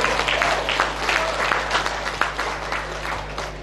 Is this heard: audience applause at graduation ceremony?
yes